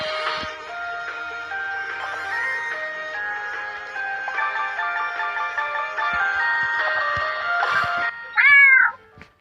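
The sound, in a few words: cat meowing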